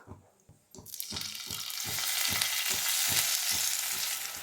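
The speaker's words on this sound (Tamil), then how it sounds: "இப்போது இதில் நம்ம ஊற வச்ச ப்ரான்ஸை இதில் சேர்த்து வதக்கிடலாம்." Marinated prawns land in a hot ghee pan and burst into loud sizzling that swells and holds, with regular soft thumps from spreading and tossing underneath the close, steady fry.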